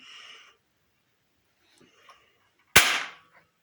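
A single sharp toy rifle gunshot crack with a short decaying tail, preceded by a faint mechanical rustle and brief soft handling noises.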